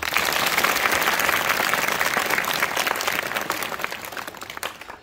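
An audience applauds a Punjabi street play staged at a school, a dense burst of many hands clapping together that stays loud and then tapers off toward the end.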